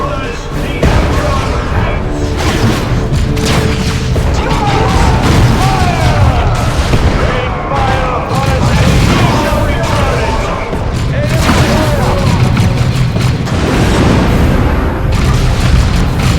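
Artillery shells explode in Warhammer 40,000: Chaos Rising, a dense, loud barrage of deep booms and crashing blasts that runs without a break, mixed with gunfire and battle clatter.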